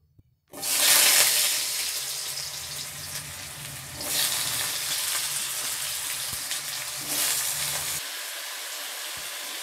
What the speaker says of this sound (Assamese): প্রথমে আমি আলুটা ভেজে তুলব।